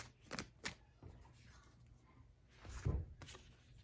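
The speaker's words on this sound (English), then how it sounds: "So we are going to keep shuffling" Faint, soft papery flicks and riffles of cards being shuffled, a few scattered bursts with quiet gaps between them.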